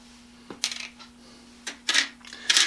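Metal hardware washers, including a copper washer and small 1/4 to 3/8 inch washers, handled and dropped in a workshop; a few sharp, bright clinks spaced apart, close by, over a faint steady hum.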